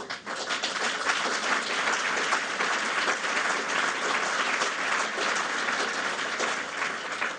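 A large audience claps steadily and continuously at a speech on regional investment, an even, dense wash of applause with no talk over it.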